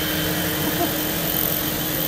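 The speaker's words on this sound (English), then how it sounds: "Turbine powered RV." A turbine-powered RV aircraft engine at an aerobatic aircraft event in DeLand, Florida, gives off a steady, loud, broadband roar and whine that holds evenly for the whole stretch with no breaks.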